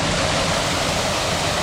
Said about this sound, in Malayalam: ഇതിനകത്ത് ഒരു വെള്ളച്ചാട്ടമൊക്കെ അവർ ഉണ്ടാക്കി വെച്ചിട്ടുണ്ട്